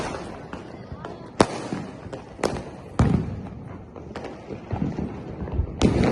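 Diwali firecrackers burst repeatedly outdoors, with several sharp, loud bangs at irregular intervals over a steady background of crackling, rumble and wind. Voices can be heard faintly in between.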